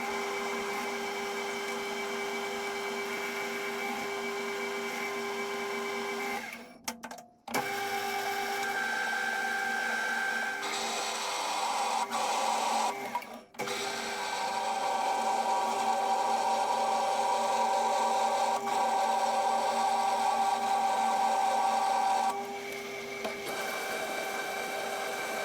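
A lathe bores out a locknut, a steady tonal machine whine with a shifting cutting note and two brief pauses, close and alone without talk.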